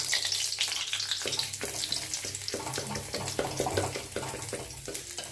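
Onions frying with cumin seeds in a pan give a steady, close sizzle with light stirring scrapes throughout, no talking.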